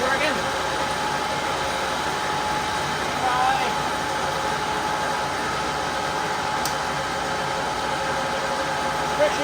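A Lucas #31 horizontal boring mill runs with a steady mechanical hum and whine, continuous and fairly loud throughout, with a brief click near the end and faint voices in the background.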